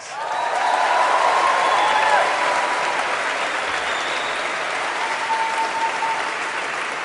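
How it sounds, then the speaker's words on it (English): Members of Princeton's class of 2012 applaud themselves at their graduation ceremony, a steady, dense wash of clapping from a large crowd that swells early and holds through to the end. "why don't you give yourselves a round of applause?"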